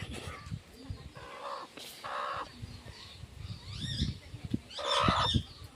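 Chickens cluck outdoors near a river in the Konkan, giving short bursts of clucking calls over a busy rustling background, with faint talking nearby.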